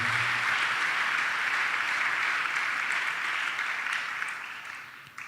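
A church congregation applauding, a steady dense wash of many hands clapping that gradually fades toward the end, heard alone without talk.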